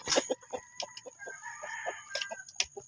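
Hens cluck in short repeated bursts while a rooster crows loudly through the middle, with sharp peaks near the start and end; a busy, close farmyard.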